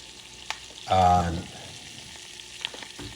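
Garlic and food sizzle and fry in a pan while being stirred, a steady close crackle with a louder burst of scraping and hissing partway through, plus a few sharp clinks.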